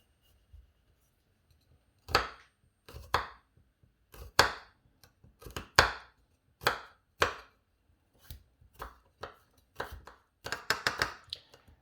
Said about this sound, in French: on va couper nos gousses d'ail, tout simplement